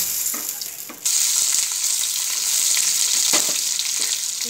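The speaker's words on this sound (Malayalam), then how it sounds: "കറിവേപ്പില ചേർത്ത് കൊടുക്കാം അതിൻ്റെ അകത്ത്." Curry leaves dropped into hot oil with dried red chillies for a Kerala raw mango and jackfruit seed curry burst into loud, steady sizzling that swells sharply after the first second, with a few light stirring clinks over it.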